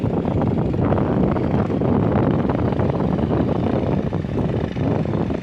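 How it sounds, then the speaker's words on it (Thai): Cold wind gusting across the Mekong riverbank at Nakhon Phanom, a steady broadband rush buffeting the microphone without pause and no voices. "โอ้ หนาวครับเนี่ย ลมหนาวนะ"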